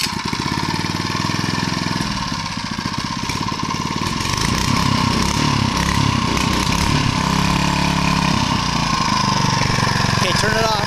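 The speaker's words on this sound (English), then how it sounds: "We're using a little Harbor Freight Predator 3. No, go ahead and start it right there." A Harbor Freight Predator 3.5 horsepower go-kart engine runs loudly and steadily close by with a rough, chattering rumble, while people talk over it.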